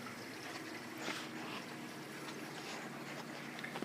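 Return water from a reef tank with a 20 long sump and Rio return pump churns the aquarium surface, a steady close-up wash of splashing and bubbling that holds an even level throughout, with no voices.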